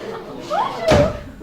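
A door is opened by hand in a flatshare, giving a single short broadband thump and rattle near the end, with quieter handling noise just before it and no talking over it.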